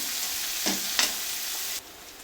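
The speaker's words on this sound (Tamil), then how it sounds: "ஆனியன் நல்லா வதங்கிடுச்சு" Onions sautéing in a pan, a steady sizzle broken by two brief stirring scrapes before the frying sound suddenly drops away.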